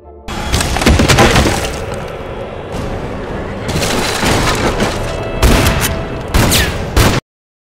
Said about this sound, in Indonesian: pintu ruangan bawah hancur lalu